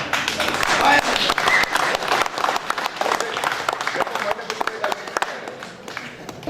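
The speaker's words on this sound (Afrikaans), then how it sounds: "Kerels, een moerse aan het klap voor ons." Sustained audience applause and clapping at a South African auction tribute to the Recces special forces, loud and dense at first, then gradually thinning, with crowd voices mixed in.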